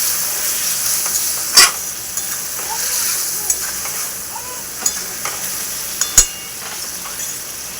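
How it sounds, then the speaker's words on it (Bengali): Chicken pieces for biryani are stirred and sautéed in a pan with a splash of spice-rinse water, giving a steady close sizzle broken by a few sharp clinks of a spoon against the pan. "মাংসটা এখন ভালো করে কষিয়ে নেব।"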